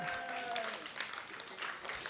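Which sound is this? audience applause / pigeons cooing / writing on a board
audience applause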